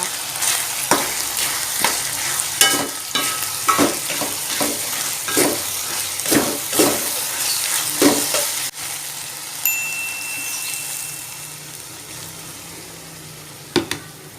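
Chicken noodle topping with soy sauce sizzling and scraping in a hot wok, with repeated rhythmic stirring strokes of a utensil, then quieter sizzling before a final clatter.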